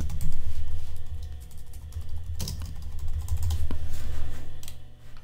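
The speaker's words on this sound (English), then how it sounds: "you can type in" A caption being typed on a computer keyboard, with close, steady bursts of key clicks over a low background hum and no talking.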